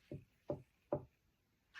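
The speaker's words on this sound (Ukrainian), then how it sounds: "вона підійшла до першого будинку і постукала" Three distinct knocks on a wooden door, evenly spaced and fairly soft, used as a fairy tale sound effect, with a short faint noise after them.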